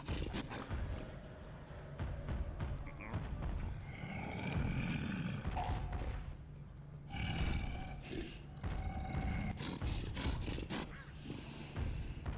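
A Tank from Left 4 Dead 2 bellows in deep, guttural, repeated roars that come in surges over a steady rumbling game din, fairly quiet overall.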